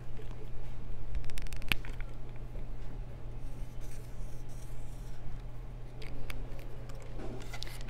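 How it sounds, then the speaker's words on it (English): A pencil writes a letter on paper in a classroom dictation exercise, giving soft, close scratching and rubbing strokes with faint background hum. "Write it down on your paper."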